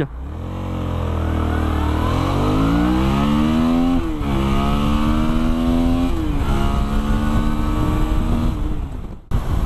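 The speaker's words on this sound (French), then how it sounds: "Je vous propose un départ arrêté 0-100 km/h à bloc." Suzuki V-Strom XT 650 motorcycle from 2017 launching flat out from a standstill to 100 km/h, engine revs climbing hard through several gear changes, loud and close.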